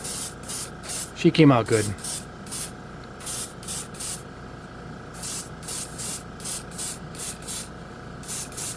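An airbrush spraying acrylic paint hisses in a steady series of short, close bursts, with a brief voice speaking over one stretch.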